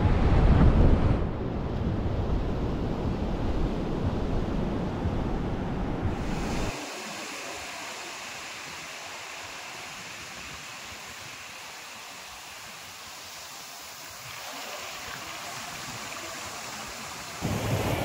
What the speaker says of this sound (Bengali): এই এখন আমরা এসেছি গোপালপুর সমুদ্র সৈকতে